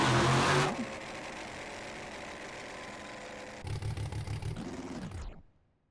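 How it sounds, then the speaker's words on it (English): A monster truck engine at a freestyle event starts back up after a loud burst, idling with a throbbing rumble before revving in pulsing bursts and cutting off to silence. "Let me turn your truck back on."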